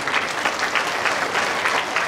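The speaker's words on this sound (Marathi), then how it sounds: "ज्यांचे कीर्तन झाले त्यांच्यासाठी पण टाळ्या वाजवा" Applause from a temple congregation for a kirtan performer during a harinaam saptah at a Vitthal temple anniversary, a dense steady wash of many hands clapping, fairly loud and near, lasting the whole short moment.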